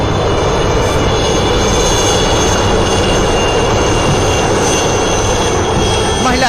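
An army helicopter flies over Pune during a multilateral military exercise, producing a loud, continuous droning roar with engine whine that stays steady and near for the whole stretch.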